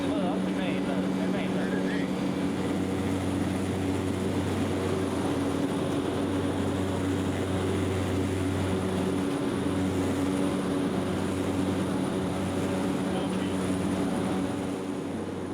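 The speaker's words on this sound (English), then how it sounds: "The pilot taxis over to the runway. Now everybody is ready for takeoff." A small propeller plane taxis toward the runway in Africa, its engine a steady, loud drone with a constant low hum that carries unbroken throughout.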